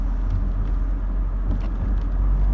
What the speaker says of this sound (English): Just out and about driving in Sylvia, my mk2 Cavalier